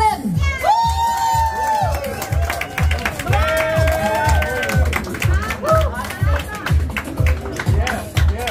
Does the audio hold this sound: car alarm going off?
no